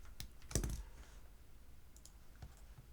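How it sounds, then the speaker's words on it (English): Typing on a computer keyboard during a math lecture, a quick burst of key clicks near the start and a few isolated taps later, close and fairly quiet. "well, let me type this."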